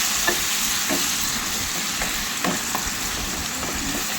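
Fish curry masala, freshly loosened with tomato puree and water, sizzles loudly and steadily in a pan, with faint scraping stirs surfacing now and then; no one talks.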